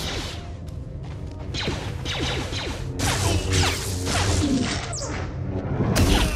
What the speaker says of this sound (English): you have an ability to deflect some of those blaster bolts